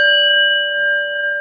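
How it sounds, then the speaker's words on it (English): A small metal bowl rings with a clear, bright sustained tone, shimmering steadily with a slight wavering pulse. "These are similar singing bowls, right? They're metal singing bowls."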